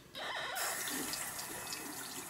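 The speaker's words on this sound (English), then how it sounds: "I can take my piece here and rinse it with some warm water" Warm water runs from a tap over a freshly printed resin 3D-printed piece, a steady splashing rush that starts suddenly and continues loud and close with no talking.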